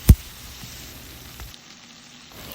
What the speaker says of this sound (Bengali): লবণ দিয়ে একটু পেঁয়াজটাকে ভালো করে ভেজে নেব।